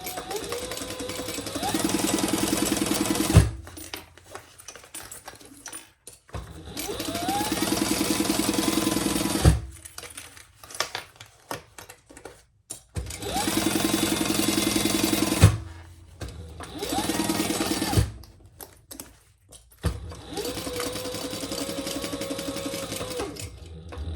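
A sewing machine basts a crossbody bag's gusset closed in several bursts of steady whirring stitching, separated by short pauses of quieter handling.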